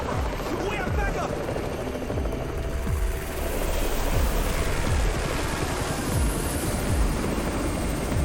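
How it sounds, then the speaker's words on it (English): Helicopter arriving in the game Undawn, a loud, continuous rotor roar with rhythmic blade thumps and broad wind-like rush, sustained throughout with voices talking over it. "It's the Raven's chopper!"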